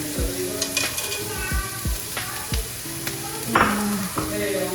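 Carrots drop into a hot pan and sizzle, with repeated knocks and scrapes of stirring over a steady close frying hiss.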